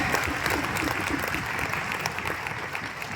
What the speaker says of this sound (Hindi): तालियां जोरदार होनी चाहिए यहाँ पे